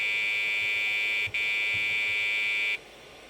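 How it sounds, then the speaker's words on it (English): A loud, steady high-pitched electronic beep tone from a Packard Bell 386 or 486 computer's beep code, with a very short break partway through, then it cuts off, with no voices. "two long beeps, three short beeps. Same beep code."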